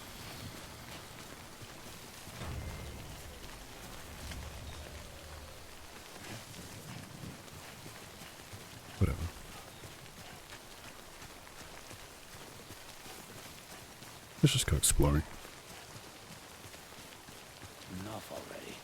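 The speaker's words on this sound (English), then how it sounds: "What's the point of waiting for it to stop raining there?" Steady rain pours down in the video game Death Stranding, a constant hiss beneath a voice, broken by a couple of sharper bursts.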